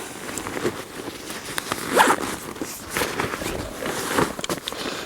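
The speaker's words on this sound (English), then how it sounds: "And zip the pocket up." A zipper on the pocket of an Osprey Atmos AG 65 backpack being pulled shut, a raspy zipping sound in a few strokes with brief rustling of the pack fabric, close and fairly quiet, no talking.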